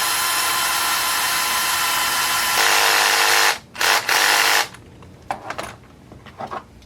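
Power drill with its clutch set fairly loose driving screws, a loud sustained whirring that steps up in pitch, stops abruptly, gives a couple of short bursts, then falls to quieter scattered clicks and handling noises.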